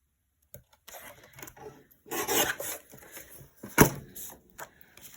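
Patterned paper trimmed along marked lines for a zig zag card, giving close, quiet rasping and scraping strokes in short bursts separated by pauses, with one sharper knock.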